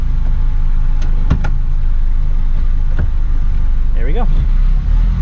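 Steady, loud engine drone of a 1983 Honda Acty Street L kei truck on the move, heard from inside the cab with a few knocks and clicks over the hum and brief voice sounds late on.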